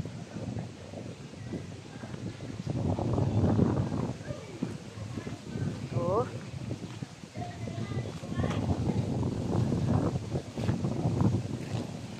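Gusty wind at Lake Danao Park on Camotes Island rumbles and buffets against the microphone in uneven waves while people talk nearby.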